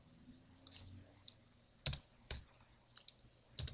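Typing a command on a computer keyboard while setting up a Linux Ubuntu server: faint, irregular key clicks and taps scattered across the moment, quiet and close with no voices.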